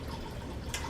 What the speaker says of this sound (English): And I pour it down the center.